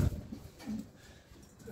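Pigeons coo softly in a loft, with a few low, faint coos spread over a quiet background.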